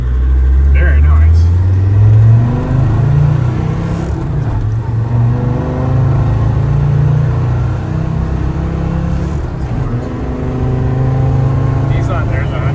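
A performance-built 1998 Land Rover Defender 90 Td5 diesel drones loudly from inside the cabin, its engine note rising and falling as it pulls and accelerates, with voices talking over it throughout.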